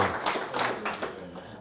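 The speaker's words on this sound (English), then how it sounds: "we'll get the ball rolling and give Donal a big round of applause, and Jimmy will introduce you." An audience at a lecture hall event breaks into applause, a short burst of mixed clapping that is fairly faint and thins out within a couple of seconds.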